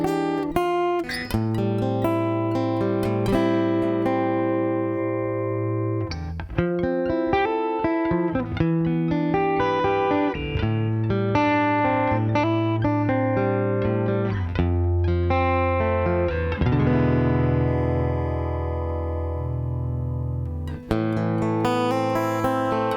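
Fender Acoustasonic guitar with compressor and light room reverb, playing continuous chords and riffs that move between a clean tone and a crunchy lo-fi distorted tone, loud and close, with no talk.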